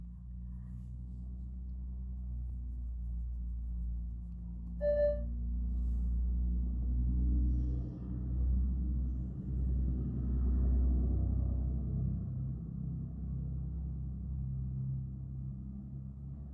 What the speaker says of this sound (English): That sure did sound like a big old truck going down this road.